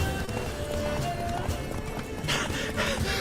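A horse gallops in a video game, with rapid, rhythmic hoofbeats close by and a fuller burst of movement toward the end over a busy game background.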